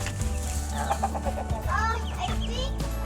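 Chickens cluck repeatedly at close range during farm chores, with short bursts of clucking and squawks over a steady low background hum.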